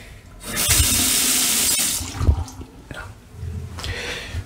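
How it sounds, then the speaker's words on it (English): A bathroom sink tap in an apartment runs loudly and close, with water gushing for a couple of seconds, then sputtering and continuing more faintly, with no talk over it. "Sink."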